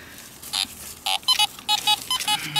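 A metal detector sounds off over a buried target in a field, giving a series of short, clear electronic beeps in an uneven rhythm, close and fairly loud against quiet background.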